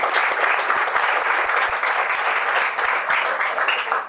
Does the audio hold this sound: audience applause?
yes